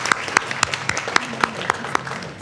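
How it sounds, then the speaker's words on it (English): Applause from a small group at a college committee meeting, a loose patter of hands with a few sharper, louder claps standing out, steady for a couple of seconds in a room. "let's just give everyone a round of applause"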